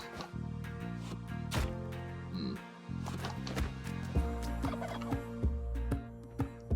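Turkeys gobble in the video game Spelunky 2, repeated bursts of game-made gobbling over looping tonal background music, with no talk.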